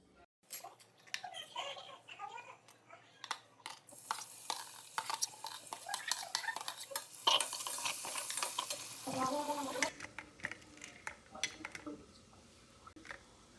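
Onion and finely chopped garlic fry in oil while a spoon stirs them, producing a run of sharp scraping and clinking strokes against the pan over a sizzle that swells in the middle and then drops back.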